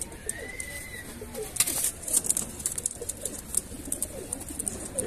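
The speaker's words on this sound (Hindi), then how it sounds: "बहुत खूबसूरत कबूतर है" Several pigeons coo in low, throaty bursts close by, with wing flutters and scattered chirps over a busy background.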